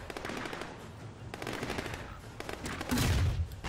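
Automatic gunfire rattles in rapid bursts during a firefight in the video game Sleeping Dogs, loud and close, with a heavier blast near the end.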